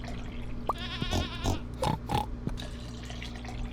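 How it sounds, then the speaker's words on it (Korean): Pig oinking on a farm in Stardew Valley: a few short grunting oinks over steady tonal game background music. "아 돼지구나 미안해. 이렇게 돼지 녀석들."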